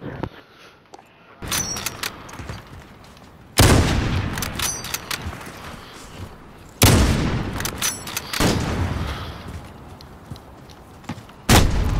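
Sniper rifle shots in Call of Duty Modern Warfare on PS5, heard as four loud, sharp reports spaced several seconds apart, each followed by a long rumbling tail, over a steady low game-ambience hiss.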